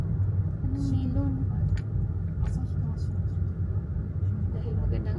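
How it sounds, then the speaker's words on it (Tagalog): Steady rumble of many cars moving along a busy street in Japan, a continuous low roar of passing vehicles with people talking over it close by. "Grabe, ang dami sasakyan."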